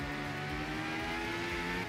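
A rally car engine revs and pulls hard in Art of Rally, a steady, loud droning note holding high under acceleration with no break.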